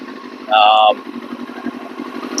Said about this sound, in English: it seems to be idling good